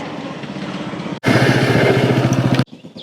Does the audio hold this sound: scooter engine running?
yes